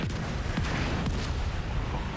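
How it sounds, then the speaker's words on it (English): Video game mortar barrage: a steady roar of distant artillery thuds and rumbling impacts, dense and continuous with no pauses, heavy low-end booms layered over constant battlefield noise. "Use the mortars, sir."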